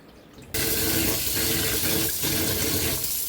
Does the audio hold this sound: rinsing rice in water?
yes